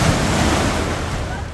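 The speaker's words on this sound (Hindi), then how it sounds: "यमुना की तेज धार की चपेट में आकर बह गए।" The flooded Yamuna river, swollen by torrential mountain rain near Yamunanagar, roars as a steady broadband rush of fast-moving water. The sound is continuous and loud, with wind-like noise and no voices.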